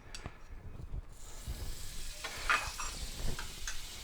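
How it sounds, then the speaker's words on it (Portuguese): Butter melting in a nonstick frying pan, a low soft sizzle with faint crackles and occasional light ticking, fairly quiet throughout. "Agora a gente vai introduzir a nossa manteiga na frigideira antiaderente."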